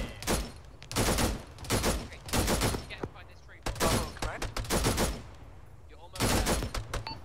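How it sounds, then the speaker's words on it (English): Gunfire in the ArmA 3 military shooter comes as repeated loud bursts of rapid shots, grouped in clusters with brief gaps between them, and distant voices are heard faintly underneath. "I'm shooting here!"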